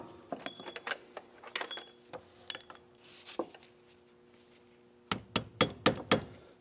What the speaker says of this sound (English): I'm going to give it a few taps with a small hammer.